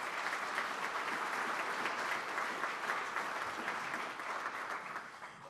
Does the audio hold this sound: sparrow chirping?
no